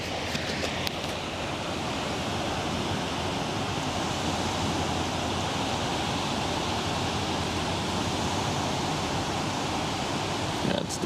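Steady broadband wash of waves from a large container ship's wake breaking on the Westerschelde shore in the Netherlands, continuous and fairly loud, with wind noise and no voices.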